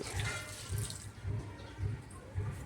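Water pours in a steady stream, gurgling in five rhythmic low surges, close by, with no talking.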